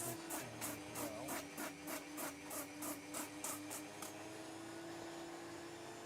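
A resin piece being hand-sanded, with about a dozen quick, even rasping strokes close by that stop abruptly, leaving a steady background hum.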